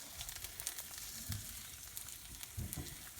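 A single egg frying quietly in a pan, a soft continuous sizzle with a few low scraping bumps as it is moved around.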